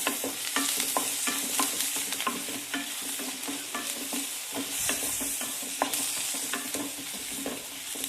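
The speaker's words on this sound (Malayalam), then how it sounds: "ഗാർലിക് പേസ്റ്റ് പച്ചമണം മാറുന്നത് വരെ നന്നായി വഴറ്റി കൊടുക്കുക" Garlic paste and curry leaves sautéing in a pan, a steady close sizzle with repeated scraping stirs throughout, no speech.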